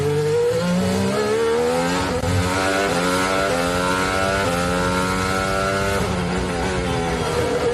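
Formula 1 car engine screaming at high revs with rising and falling pitch through gear changes during Fernando Alonso's save, loud and continuous with no talk.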